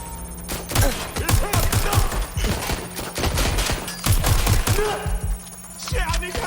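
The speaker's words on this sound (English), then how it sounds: "Covering fire" Heavy, sustained gunfire rattles through a firefight in the video game Watch Dogs Legion, rapid bursts and overlapping shots packed closely for several seconds before easing slightly, with some faint voices mixed in.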